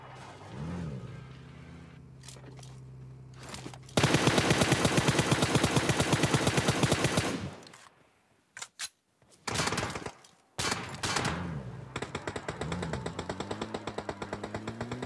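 Automatic gunfire from another player in PUBG Mobile, a long loud burst of rapid shots followed by shorter bursts and a final rapid stream, with vehicle engine hum in between.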